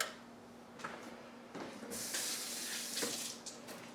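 A kitchen tap runs water over salmon for a quick rinse, a close hissing splash that swells and changes as the fish moves under the stream.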